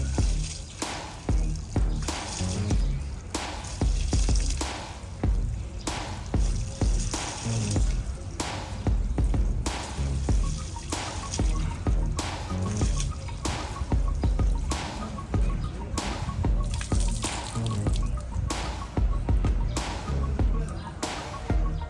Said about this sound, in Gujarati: આપણે મરચાં ધોઈ દઈએ